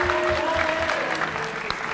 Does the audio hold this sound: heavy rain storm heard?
no